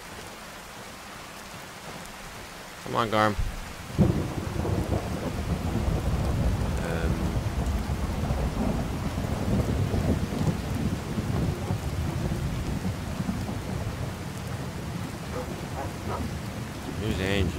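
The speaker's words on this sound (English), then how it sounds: "Running around in the damned rain." A steady downpour hisses through a thunderstorm in the video game Skyrim, with a sharp thunder crack early on followed by a continuous rolling rumble of rain. Someone speaks briefly over it.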